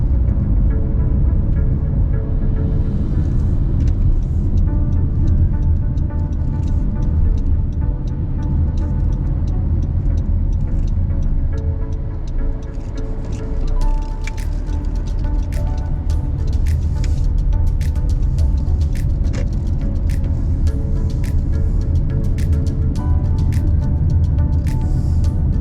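A car merges onto a freeway during a driving lesson, its steady engine and road rumble loud and continuous throughout, with faint ticking from inside the cabin.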